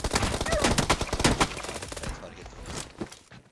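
Rapid pistol shots in the mobile game PUBG Mobile crackle in a dense, sharp burst, then thin out into a few scattered pops with fainter background game noise.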